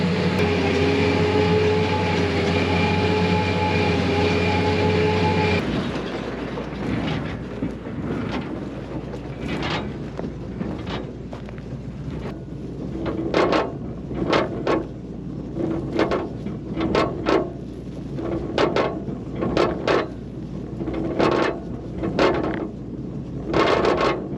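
Hay baler working rained-on hay in a field: a steady mechanical drone, then a rhythmic series of sharp clanking thumps as the plunger packs hay, with wind noise buffeting the microphone.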